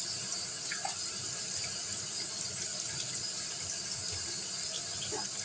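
A kitchen water tap runs steadily into a sink while fruit is washed under it for a smoothie, a continuous close splashing flow with faint knocks of the fruit.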